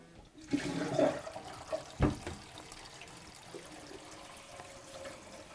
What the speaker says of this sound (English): Now you'll hear it go down through the drain